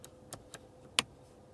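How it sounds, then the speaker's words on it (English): Seat heating buttons in a small car cabin clicked a few times, sharp isolated clicks spaced irregularly, quiet and close, with one louder click near the middle. "really has a nice clicking sound, and it gives kind of like tough feeling to the vehicle"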